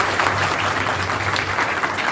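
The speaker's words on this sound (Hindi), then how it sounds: "एक बार जोरदार तालियां बजा दीजिए" Loud, steady applause from an audience at a JEE Mains 2024 toppers event in India, a dense wash of clapping that carries evenly for the full two seconds with no voices on top.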